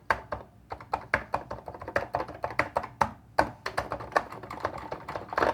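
Keys clack on a cheap, unweighted MIDI keyboard, rapid uneven plastic taps and thunks in quick succession, close and fairly loud with no voice over them.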